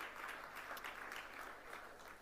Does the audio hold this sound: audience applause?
yes